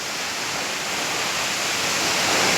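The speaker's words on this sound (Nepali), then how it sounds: "दामी रहेछ है मोहिनी झरना चाहिँ यो" Mohini waterfall pours in a steady, loud, broadband rush of falling water that swells slightly and continues unbroken, with no voices.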